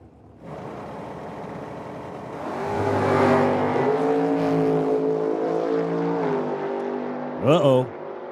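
A Spider Electric dragster roars down a drag strip at a Medicine Hat drag racing meet, its engine note climbing in pitch as it accelerates, with a loud announcer talking over it.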